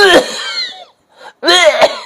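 A voice imitates a harsh coughing fit, two bursts of rough, strained coughs separated by a short pause.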